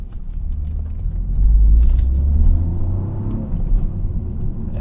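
A Toyota GR Corolla driving onto a highway at night, heard from inside as a deep steady engine and road rumble that swells briefly as it accelerates, then settles, with no talking.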